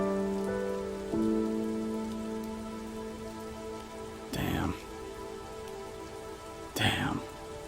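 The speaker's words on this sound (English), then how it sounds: "Why can't this rain just stop?" Steady rain falling in the video game Halo Reach, a continuous even hiss throughout with two brief louder bursts of splashing or gusts, and no voices.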